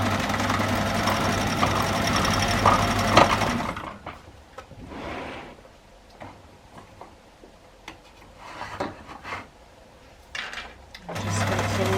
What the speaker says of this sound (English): then you can continue to sew as normal